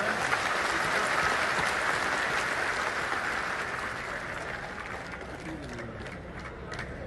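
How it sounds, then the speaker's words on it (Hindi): Loud, sustained applause from a large crowd at a Bihar political party launch event, steady dense clapping throughout that eases slightly toward the end. "जोर से ताली बजाइए।"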